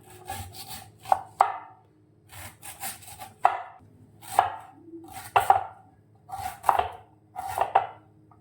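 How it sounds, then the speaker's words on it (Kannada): A knife chops raw mangoes for Andhra-style mango pickle, sharp, close cuts on a board in irregular clusters of two or three strokes, with short rubbing and scraping sounds between them and no speech. "ಮಾವಿನಕಾಯಿನ ಕಟ್ ಮಾಡ್ಕೊತೀನಿ."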